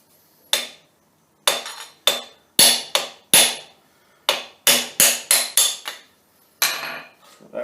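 A piece of aluminum angle iron used as a makeshift punch is struck with a hammer about a dozen times. Each sharp metallic blow rings close and loud, spaced irregularly with a quick cluster near the end.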